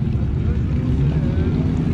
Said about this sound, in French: Les moteurs encore tournants.